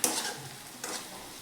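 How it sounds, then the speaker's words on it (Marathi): A spoon stirs a spicy masala mixture frying in oil in a pan for horse gram curry, making short scraping strokes over a soft sizzle, close and fairly quiet. "आता हे आपण चांगलं मिक्स करून घेऊयात."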